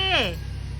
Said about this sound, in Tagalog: Meron pusa nang hihingi ng tulong.